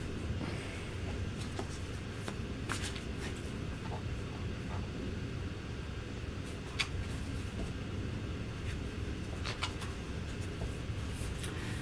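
Tarot cards are shuffled by hand in repeated soft riffles and snaps over a steady low background hum, with small clicks scattered throughout and no clear speech.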